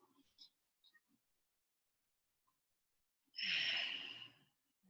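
A single full, soft sigh of breath during a gentle rib- and heart-opening yoga practice, close and alone after near silence with a few faint small sounds.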